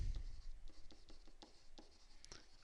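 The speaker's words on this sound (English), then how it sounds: "I'm going to write it like this." Handwriting during a pre-algebra lesson, quiet rhythmic strokes of a pen or marker scratching across a surface, a steady series of short scrapes with low background hum.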